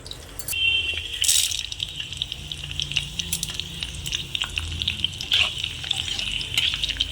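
Curry leaves, urad dal and chana dal fry in hot oil, with a steady close crackling sizzle and scattered sharp pops throughout. No one speaks.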